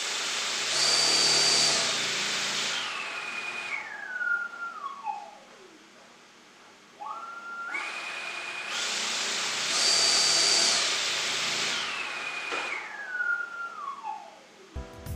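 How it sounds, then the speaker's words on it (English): 26-inch drone propeller on an AXI8110 motor on a test stand, spinning up twice to a loud whirring whine, holding, then winding down in a falling tone, with a pause between runs. "Our first contender is the 26-inch prop."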